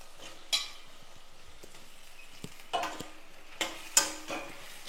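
Small garden brinjals sautéing in hot oil in a pan for a couple of minutes, with soft stirring scrapes and a few louder sizzling bursts as the pieces are turned, quiet and close with no talk.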